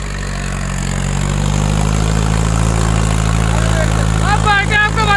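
A tractor engine drives a nine-tine cultivator in a field, giving a loud, steady low drone throughout, while someone speaks briefly near the end.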